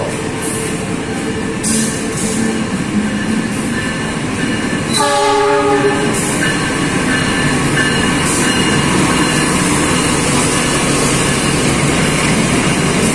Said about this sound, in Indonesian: KA Purwojaya sudah pakai rangkaian K1 stainless steel.